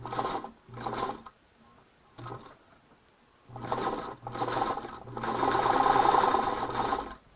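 A Singer Featherweight sewing machine runs in stop-start bursts, rattling and whirring mechanically, then settles into a longer steady stitching run, close and fairly loud with no talking.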